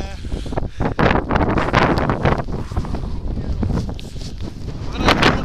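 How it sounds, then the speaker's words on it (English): Strong gusts of wind buffet the microphone on snowy Helvellyn near the snow line in full winter conditions, a loud, blustery roar that surges and drops in bursts over several seconds. "Wind's blowing."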